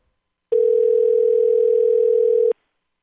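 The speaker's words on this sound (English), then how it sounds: "somebody could work out the phone number by listening to the tones" A single steady telephone dialing tone sounds clearly for about two seconds, starting and stopping abruptly, with silence on either side.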